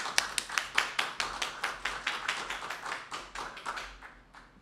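Scattered hand clapping from a modest crowd welcomes a poet to the stage at a reading event, a fairly quiet, slightly irregular patter of claps that tapers off toward the end, with no talking.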